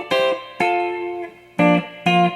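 Electric guitar picks out a short solo phrase, four separate plucked chords or double stops that ring briefly, close and clean with no voices.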